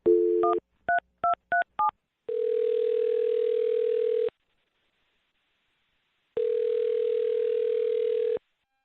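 Touch-tone keypad beeps as a phone number is dialed, a quick series of tones followed by long steady ringback tones separated by silence, then answered.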